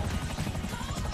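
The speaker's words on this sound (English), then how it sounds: "You can't do that in a helicopter in this game." A helicopter flies in the video game GTA V Online, its steady rotor thumping and engine roar loud and close throughout.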